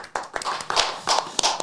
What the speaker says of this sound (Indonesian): Tepuk tangan lagi dong sekali lagi.